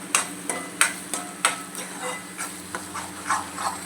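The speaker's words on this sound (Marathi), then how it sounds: "चांगलं एकजीव करत राहायचं आहे" Methi matar malai curry stirred in a pan with a spoon, a steady rhythm of soft scraping strokes roughly every half second over a faint sizzle, close and moderately loud.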